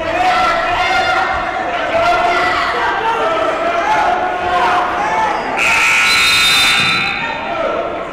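Loud electronic buzzer sounds for about a second and a half, ending the first period of a 160-weight-class wrestling match, over crowd noise and continuous commentary.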